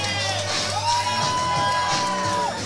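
A wrestling crowd at an indoor show roars and whoops loudly, with one long sustained yell rising above the dense cheering throughout.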